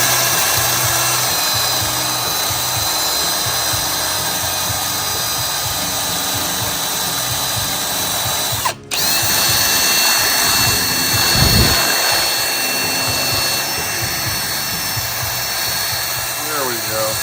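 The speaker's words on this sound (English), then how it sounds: "I'm pretty much just using a little wire wheel here like this" A small wire wheel on a power tool scrubs bolts from a Buick Grand National with a loud, continuous high whine. It cuts out briefly midway, then resumes with a low rumble, and a voice talks over it.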